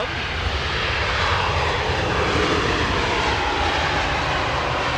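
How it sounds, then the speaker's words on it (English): Qatar Amiri Airbus A340-300 at London Heathrow, its engines producing a loud, steady jet roar that holds evenly throughout without a break. "Hearing that the Qatar Amiri A340-300 is inbound"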